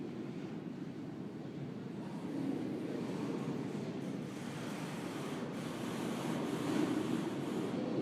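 A long coal train of about 18 wagons rumbles past at a distance, a steady low rolling and grinding of wagons on rails that swells slightly midway and stays continuous.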